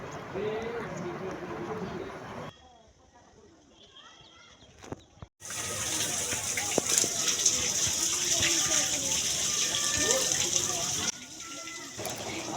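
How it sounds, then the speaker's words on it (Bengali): Water splashes and gushes as people wash their hands and feet for ablution outside a shrine, with voices talking throughout and a short quieter stretch partway through. "এখানে সবাই উজো করছে পা হাত ধরছে"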